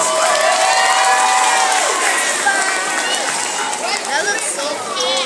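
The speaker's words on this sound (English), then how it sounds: "let's give them a better round of applause than that." Audience at a kindergarten holiday show clapping and cheering loudly, with excited shouts and children's voices mixed in throughout, a continuous crowd roar with no pause.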